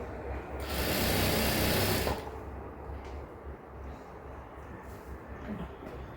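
Sewing machine stitching along the edge of a slit on a straight-cut pant, a loud steady whir for about one and a half seconds, then stopping into quieter room noise.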